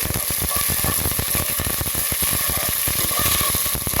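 Ginger and garlic paste sizzles in a pan while being fried for a village-style biryani, a steady, crackling hiss with rapid spattering pops held evenly close to the pan.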